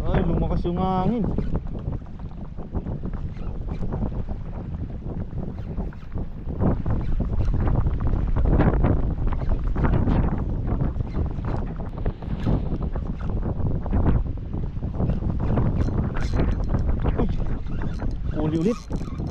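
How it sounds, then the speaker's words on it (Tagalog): Strong wind at sea buffets a small fishing boat during jigging, a loud continuous rumble that swells partway through, with someone speaking over it. "Ay, lumakas yung hangin."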